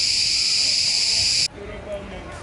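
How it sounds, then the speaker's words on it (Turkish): Loud, dense cricket chirping at a forest campsite near Alanya, a steady high buzz that cuts off abruptly halfway through, leaving quieter background sounds. "Bir de cırcır cır böcekleri var. Onlar geldiğimizden beri susmadı."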